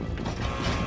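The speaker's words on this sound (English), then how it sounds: "And I hit the lever." A lever mechanism is pulled in Resident Evil 4, giving a brief, loud, dense mechanical grinding creak that fills the moment.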